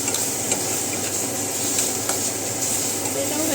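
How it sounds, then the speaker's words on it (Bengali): Beetroot frying in a pan and being stirred, giving a continuous sizzle with scraping stir strokes and a few light clinks, close and fairly loud. "এই দেখুন ভাজা ভাজা প্রায় হয়েই এসছে"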